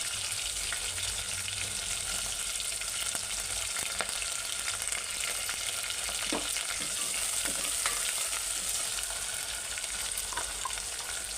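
Tomatoes and green chillies fry in a pan of oil for a mutton curry, giving a steady close sizzle that runs the whole time with a few faint clinks of stirring and no talk.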